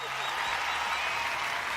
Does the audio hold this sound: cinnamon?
no